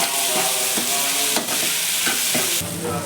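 Potatoes fry with salt in a pan, giving a steady close sizzle with several sharp scraping stirs of a spoon against the pan.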